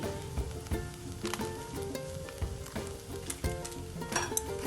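Potato filling for bread rolls sautés in a pan, giving a continuous close sizzle. Spatula scrapes and taps against the pan recur at intervals.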